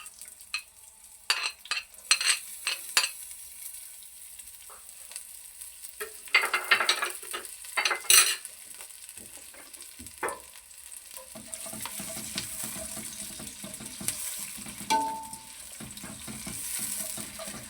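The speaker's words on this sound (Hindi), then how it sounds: "प्याज हमने इतना ही फ्राई करना," Two sliced onions softening in ghee in a handi pot give off a low, steady sizzle, with clusters of stirring scrapes and clinks from a spoon against the pot.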